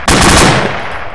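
Loud gunfire from the ArmA 2 ACE military video game: a dense automatic burst that cracks sharply at the start, then rolls and decays into echoing reverberation.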